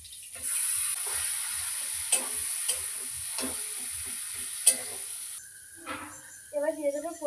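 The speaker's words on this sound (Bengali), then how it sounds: "এবারে মটরশুটিটা দিয়ে দিলাম" Green peas tipped into a hot pan with bay leaf, black cumin, fennel and ginger, giving a steady hiss and sizzle with scraping stir strokes, then a brief human voice near the end.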